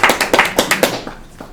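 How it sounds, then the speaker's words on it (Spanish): A small audience at a book presentation claps in a short burst of sharp, uneven hand claps that thin out and fade within about a second. "Hacemos un aplausito para Huguito."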